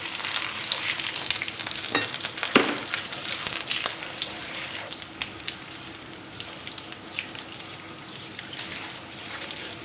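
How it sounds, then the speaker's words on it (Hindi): Cumin, nigella, fenugreek and mustard seeds with curry leaves crackle and sizzle in hot oil for a Hyderabadi green chilli and tomato salan, a steady broadband fry with a few sharp pops and spatters, close and unbroken by speech. "इसमें मैं डाल रही हूँ ज़ीरा, कलौंजी, मेथी दाना, राई और कड़ी पत्ता। इन सब चीज़ों को डाल के हम थोड़ा सा हिला लेंगे।"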